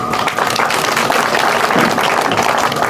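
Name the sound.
applause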